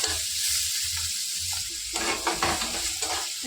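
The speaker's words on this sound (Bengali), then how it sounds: "একটু পেঁয়াজ রসুনটাকে ভাজা ভাজা করে নেব" Onion and garlic fry in a pan with a steady sizzle. Scraping stirs and clatters break in around the middle.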